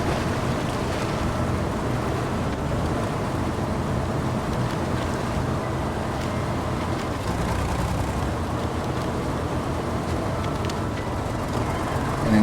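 A vehicle churns steadily across water in the Expeditions video game, a continuous broad rushing wash of engine and splashing water that holds an even loudness throughout, with no voices.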